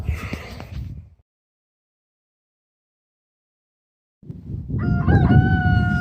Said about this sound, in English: That's Carl the rooster